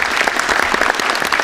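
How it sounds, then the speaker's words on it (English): A brief burst of dense clapping from a crowd at a school athletic signing, steady and fairly loud throughout. "let's give her a big round of applause"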